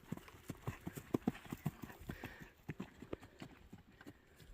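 Horse hooves clip-clop on a jumping course during a first practice round at a competition, a quiet, irregular run of soft thuds at a trotting pace, close and alone without talk.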